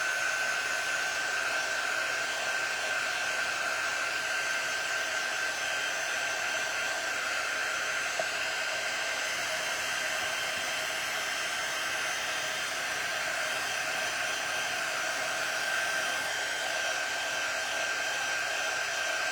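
A hair dryer blows steadily and close on the bottom of a handmade primitive stacked box, a constant loud whir with a thin whine that never changes pitch.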